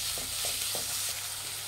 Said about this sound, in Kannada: ಈರುಳ್ಳಿ ಹಾಕ್ತಾ ಇದ್ದೀನಿ. ಈರುಳ್ಳಿನ ಚೆನ್ನಾಗಿ ಫ್ರೈ ಮಾಡಿ ಎಣ್ಣೆಯಲ್ಲಿ